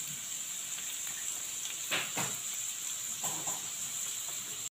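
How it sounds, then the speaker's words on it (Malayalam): Chopped onion sautéing in hot oil in a pan, a steady hiss with a few louder bursts of crackle as it is stirred, fairly close and continuous. "സവാള ഇട്ട് കൊടുത്തിട്ടുണ്ട് ഇനി നമുക്കിതൊന്ന് വഴറ്റിയെടുക്കാം"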